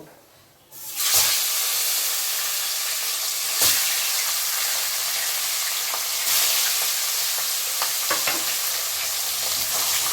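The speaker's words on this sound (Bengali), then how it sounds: "মাছের মাথা কিন্তু জোরে আঁচ দিয়েই ভাজতে হবে" Katla fish heads fry in hot oil with a loud, steady sizzle and hiss that runs throughout, broken by a few sharp spattering pops.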